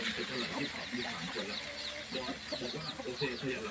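Chickens cluck in a steady, busy chorus at feeding time on a Thai farm, near and continuous over a low background bustle, with a voice talking faintly at times.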